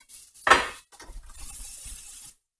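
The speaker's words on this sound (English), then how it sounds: "I've got to get those potatoes off the oil real fast here. So I'm just going to go ahead and stir it right now" A metal utensil stirring potatoes frying in hot oil in a pan, with one sharp clink against the pan and then a scraping, sizzling shuffle that lasts about two seconds.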